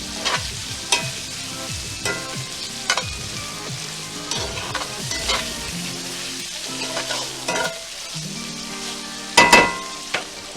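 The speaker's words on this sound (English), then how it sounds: "Sauteed green beans and bacon with shallots and garlic." Green beans and bacon with shallots and garlic sauté in a pan, a continuous sizzle broken by repeated clattering scrapes and tosses of a utensil, close and fairly loud, with no talking.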